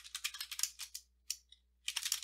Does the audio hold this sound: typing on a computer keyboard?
yes